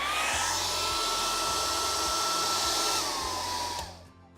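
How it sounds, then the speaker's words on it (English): A hairdryer set to a warm temperature blows steadily to thaw frozen household pipes, giving a loud continuous whir with a steady tone that winds down near the end. "you can use a hairdryer, setting it at a warm temperature"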